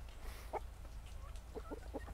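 Chickens cluck in short bursts over a low steady rumble, a few soft calls spaced across the moment, moderately close.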